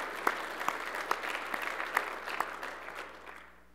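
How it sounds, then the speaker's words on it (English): An audience at a geothermal heat pump association event applauds exhibitors, sponsors and attendees with sustained, crowded clapping and a few sharper individual claps standing out, tapering off near the end. "I'd like to give a round of applause to these people."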